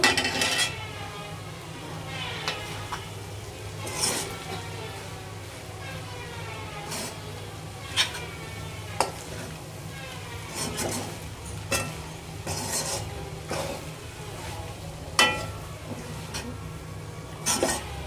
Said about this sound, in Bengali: ভালো করে একটু নেড়ে চেড়ে নিচ্ছি